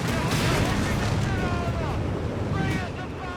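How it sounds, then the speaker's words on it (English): Allied artillery fire in Company of Heroes 3 lands as a dense, continuous rumbling roar of explosions, loud and washing over the scene without distinct separate blasts, fading slightly at the end. "Units being hit there by Allied artillery."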